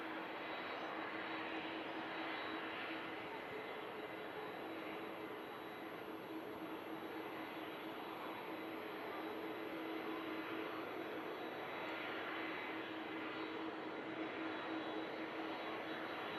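In thick fog at Manchester Airport, a Ryanair airliner landing after arriving from Belfast makes a faint, distant, continuous engine rumble with a steady low drone, no talking.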